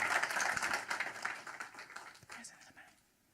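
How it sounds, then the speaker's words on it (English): A live audience applauds at a sport and society talk, a burst of clapping that thins out and dies away over about three seconds. "Big round of applause."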